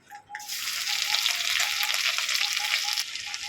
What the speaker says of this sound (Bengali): ওই তেলের মধ্যে আদা কুচি আর রসুন কুচি দিয়ে দেবো